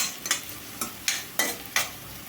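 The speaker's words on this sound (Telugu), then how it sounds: "ఉల్లిపాయ బాగా వేగాలండి" Finely chopped onions and curry leaves frying in a pan under a steady sizzle, with about five sharp spatula scrapes of stirring spaced evenly through it.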